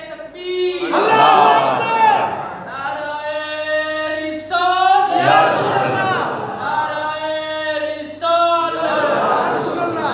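A large crowd at an Islamic religious gathering chants loud responses to shouted slogans, repeating in waves with a lead voice calling out over the massed voices.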